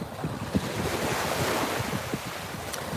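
Surf breaking on an open public beach with no lifeguards, a steady wash of waves mixed with wind rumbling across the microphone, continuous and fairly close with no voices.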